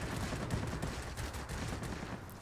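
Rapid aircraft machine gun fire from a Spitfire-type fighter in the World of Warplanes video game, a dense continuous burst of gunshots, loud and close.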